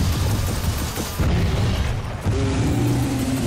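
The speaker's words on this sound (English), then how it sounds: "Well, I shot it with rockets." Rocket blasts strike a giant rock-covered mech in Gears of War 4, giving loud, dense booming explosions with heavy low rumble that swell and repeat through the whole stretch, with no talk.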